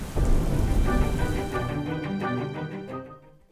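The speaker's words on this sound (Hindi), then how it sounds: "बारिश भी बंद होने का नाम नहीं ले रही" Heavy cartoon rain pours in a dense, loud hiss with a low rumble at the start, then thins into patterings and fades out.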